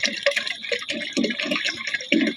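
Water poured and splashing into a storage container during flood season, uneven gurgling bursts of liquid close by, repeating in short surges with no talk.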